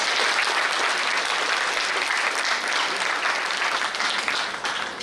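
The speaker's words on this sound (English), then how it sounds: "We need a round of applause for this." Dense, loud applause fills a medical college auditorium at the inauguration of a lab, sustained evenly for about five seconds before tapering slightly.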